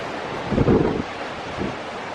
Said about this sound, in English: And the sea spray just whipping up the coast.